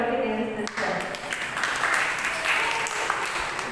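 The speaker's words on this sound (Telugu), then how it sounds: "అందరూ చప్పట్లు కొట్టి దేవుని స్తుతించాలి." An audience applauds at a women's Christmas church gathering, a dense stretch of clapping heard close and fairly loud, with a voice talking over the start.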